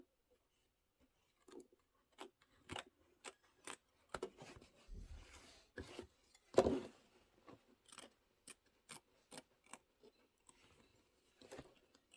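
Scissors snip through fabric for a reindeer tote bag, a run of crisp, close, quiet cuts in an uneven rhythm with short pauses between strokes.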